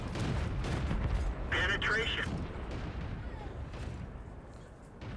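Tank gun fire from World of Tanks, with booming cannon shots and distant impacts over a constant low rumble of engines and battle noise, with a voice talking over it.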